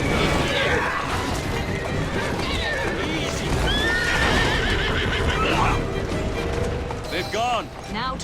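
Horse-drawn carriages in the video game Assassin's Creed Syndicate: horse whinnies and clattering hooves ring out over a steady mix of game noise and rumbling wheels, with voices present.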